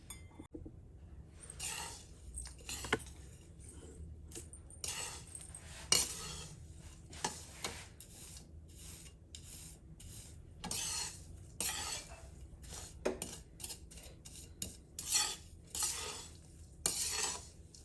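Panjiri being stirred with desi khand sugar in a pan, a spoon or spatula scraping and clinking against the metal in frequent short strokes, close and fairly quiet, with no talking.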